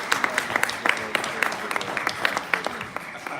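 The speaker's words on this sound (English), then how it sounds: "Let's give him a round of applause." Scattered hand claps ring out at a board meeting, greeting the village fire chief: a sparse, uneven round of separate claps from a small group, fairly close, with some voices mixed in.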